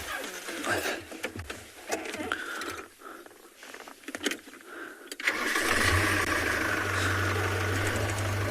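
A safari vehicle's engine cranks and catches, then settles into a steady loud idle, preceded by mechanical clunks and handling noises close by.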